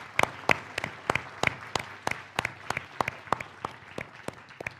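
Applause for a panel at a civic event, heard as a steady run of sharp, evenly spaced claps, moderately loud and close, with light crowd noise underneath and no talking.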